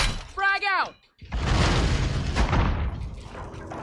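A frag grenade exploding in the video game Warzone: one deep, loud boom with a long rumbling decay, following a brief spoken call.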